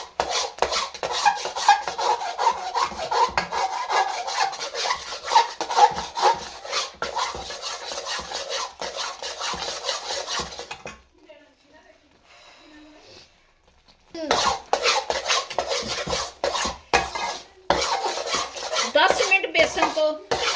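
A spoon stirs and scrapes gram flour (besan) roasting in a pan, producing repeated gritty rasping strokes that pause briefly midway and then resume.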